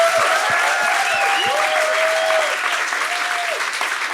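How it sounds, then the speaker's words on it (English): An audience at a Palestine arts festival and fundraiser applauds the panel with sustained, loud clapping, while whistles and a few cheers rise over it. "I want to give a big round of applause for our panel"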